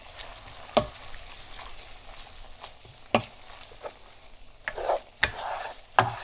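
Ground beef browning in a pan for Tex-Mex burritos, a continuous sizzle broken by sharp scraping stirs of a utensil against the pan at irregular intervals.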